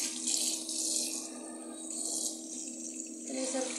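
Warm tap water runs into a bathroom sink, a steady hissing splash, close and moderately loud, its pitch shifting slightly near the end.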